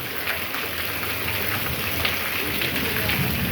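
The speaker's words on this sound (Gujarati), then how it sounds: "રાત્રે 11 વાગે જબરજસ્ત વરસાદ ને વીજળી ને પવન સાથે વરસાદ પડી ગયો છે" Heavy rain pours steadily at night during a storm with strong wind, a dense continuous hiss close by with no let-up.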